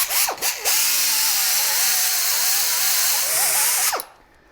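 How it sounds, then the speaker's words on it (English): Small 1 horsepower die grinder cleaning rust off a car brake hub, a loud close high whine with shifting pitch as it loads and slows, stopping abruptly near the end. "This is just like a little tiny die grinder. Doesn't make a lot of power"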